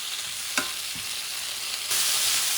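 Turkey paella stirred in a pan gives a steady, close sizzle with a couple of brief scraping stirs, growing brighter and louder toward the end.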